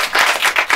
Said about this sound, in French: On peut encore applaudir Grégoire pour Léopoldine.